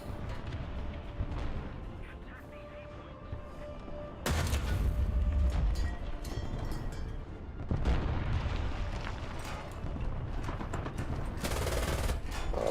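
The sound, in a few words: tank and AI field gun fire in War Thunder video game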